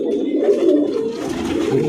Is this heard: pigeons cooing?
yes